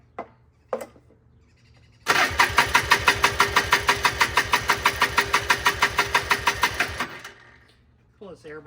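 A 1995 Trail Boss 250 engine with a crank-no-start fault, its starter churning in a fast, rhythmic chug for about five seconds without catching, close and loud, with brief faint sounds before and after.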